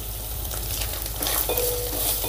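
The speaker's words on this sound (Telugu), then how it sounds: "ఇప్పుడు అల్లం వెల్లుల్లి పేస్ట్ వేసాం కదండి, దాన్ని పచ్చివాసన పోయేదాకా వేగించుకుందాం." Ginger garlic paste frying on low heat in a pan for a meal maker curry, a continuous close sizzle with occasional spoon scrapes and light clinks against the pan.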